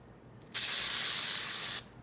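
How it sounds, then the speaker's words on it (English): One steady hissing burst of flour-based baking spray coats cake pans for mini heart cakes, close by and lasting just over a second, with quiet room tone before and after. "we need to take our pans and we need to spray it down really good"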